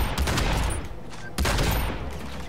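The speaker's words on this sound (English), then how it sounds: "We've got this shotgun." Shotgun blasts ring out in a Hitman Absolution gunfight: two heavy booming shots about a second apart, each with a long rumbling tail, loud and close.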